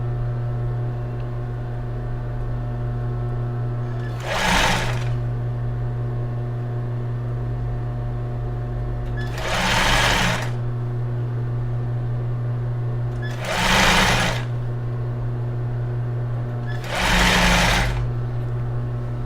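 A sewing machine stitches elastic onto a bra, with a steady close hum broken by four brief louder bursts at regular intervals, each a few seconds apart.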